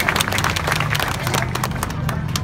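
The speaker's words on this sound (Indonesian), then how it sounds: "Tepuk tangan buat Pak Gubernur." An audience applauds the governor of Banten at a gathering with workers: steady, dense clapping from a crowd, loud and continuous throughout, with no break.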